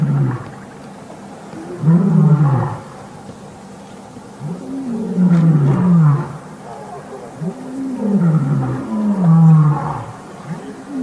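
Lions roar in the wild in three long, deep, rising-and-falling bouts spaced a few seconds apart, loud and close with quieter gaps between.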